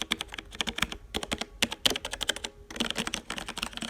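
Brisk typing on a new Logitech G810 mechanical computer keyboard, close and clear, with dense bursts of keystroke clacks, a short pause near the middle and no talking.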